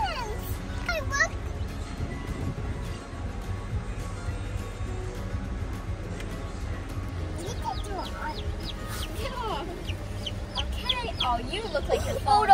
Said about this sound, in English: We're getting chickens. Chicks.